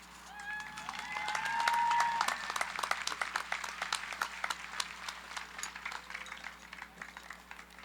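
An audience at a high school graduation ceremony claps, a dense patter of many hands that swells in the first two seconds and then thins into scattered, uneven claps, with a few faint whistles early on.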